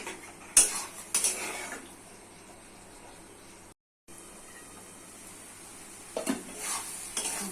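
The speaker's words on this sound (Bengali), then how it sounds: "সবুজ মুগ ডাল আলুর সাথে ভালো করে কষিয়ে নিতে হবে" Green mung dal and potatoes are stir-fried in a pan with a soft sizzle under sharp metal spatula clinks and scrapes, which cluster at the start and end, with a brief dead gap midway.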